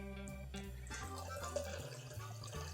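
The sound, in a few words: warm water being poured for grog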